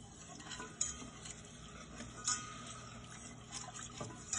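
A whisk works whole milk into a sauce, sending faint, quiet stirring and scraping strokes against the pan in an uneven rhythm, with light liquid swishing underneath.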